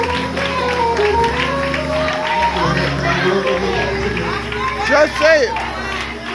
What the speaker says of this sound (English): clap your hands for the word of the Lord today